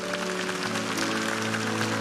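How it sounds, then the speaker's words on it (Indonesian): A church congregation applauds during a service, steady clapping heard alongside sustained music tones, with the clapping moderately loud and continuous. "Berikan tepuk tangan untuk Tuhan."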